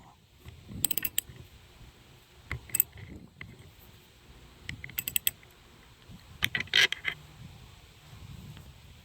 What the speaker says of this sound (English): I'm going to take this little bolt out.